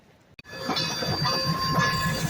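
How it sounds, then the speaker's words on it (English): A tourist train in Durango rumbles closer with clattering wheels and a sustained metallic squeal, loud and steady after a brief sharp click at the start. "I hear the train a-comin', it's coming round the bend."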